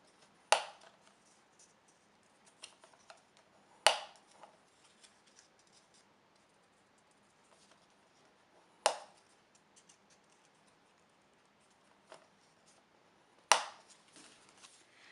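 Paper is creased into folds for a card box, heard as a few sharp, isolated crisp snaps and presses several seconds apart, close and quiet in an otherwise still room.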